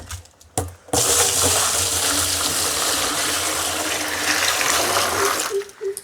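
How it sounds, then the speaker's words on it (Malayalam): Ten litres of water are poured into a drum for homemade organic fertilizer, a loud, steady gush of water running for about five seconds after a brief quiet start. "ഈ ഡ്രമ്മിലേക്ക് ആദ്യം പത്ത് പത്ത് ലിറ്റർ വെള്ളം എടുത്തു വയ്ക്കണം"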